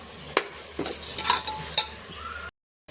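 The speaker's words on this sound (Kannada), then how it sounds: "ಅರಿಶಿಣ ಉಪ್ಪು ಹಾಕ್ಕೊಂಡು ಒಂದು ಸ್ವಲ್ಪ ತಿರುಗಿ ಮುಚ್ಚಿಟ್ಟು ಬಿಡಂಬ್ರಿ" Metal spoon clinking against a pan while vegetables with salt and turmeric are stirred, several sharp scattered clinks and scraping over about two and a half seconds, then silence.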